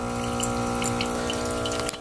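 Water runs steadily through a Miele CM6310 coffee maker during its rinse cycle, a continuous close hiss and trickle with a faint pump hum underneath, no voices.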